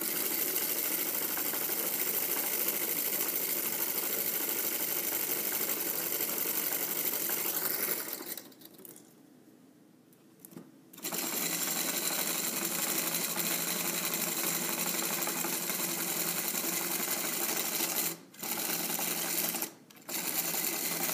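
A small electric motor from a demonstration kit, set up for Arduino control, hums and whirs steadily up close, cuts out for a few seconds and restarts, then has two brief dropouts before running on.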